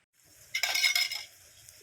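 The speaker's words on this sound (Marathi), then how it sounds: "कढई पण ठेवलेली आहे" An iron kadhai set onto a wood-fired clay stove gives a brief metallic clink and scrape, a short burst of bright clatter in the middle over a faint low crackle of the fire.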